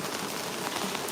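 Steady rain falls in a backyard in Tbilisi's Chughureti neighborhood, a soft, even hiss of drops on surfaces that holds unbroken through the moment, close and continuous with no voices.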